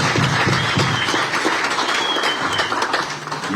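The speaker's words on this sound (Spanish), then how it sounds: "pido que le demos un fuerte aplauso de bienvenida a este binomio" Welcoming applause from a crowd at a political event for a pair of candidates in Santa Cruz, a steady clatter of many hands that stays loud and eases slightly toward the end.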